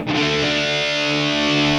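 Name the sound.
power chord on a distorted electric guitar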